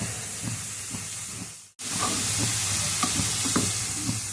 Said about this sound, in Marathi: आता 5 मिनिटं असे आपण परतून घेऊया। छान मिक्स करूया।